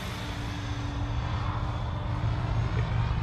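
A Kraken RC helicopter on a 6S battery flies with a steady, droning rotor and motor whine, moderately loud and continuous.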